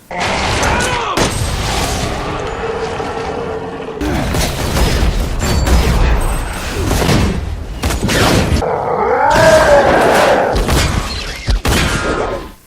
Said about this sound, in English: So there's Leon's wing shooter for ya